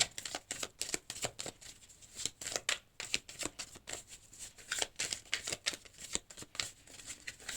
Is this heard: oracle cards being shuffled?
yes